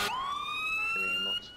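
A wailing emergency vehicle siren from the game Emergency 4 with the Fairfax mod rises and holds a steady high tone, loud and close, for over a second before dropping off, with faint background noise beneath.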